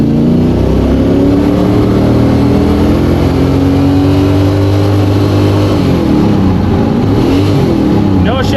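A car engine with a freshly rebuilt TH400 transmission revs hard and steady while pulling away in first gear and never shifts up. The drone is loud and continuous, and a voice talks over it.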